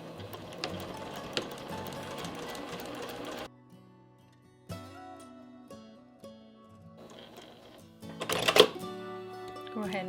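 Sewing machine stitching a channel for elastic in a reusable fabric bowl cover, an uneven rattling run of stitches that stops partway, then short bursts resume, with a voice talking over parts.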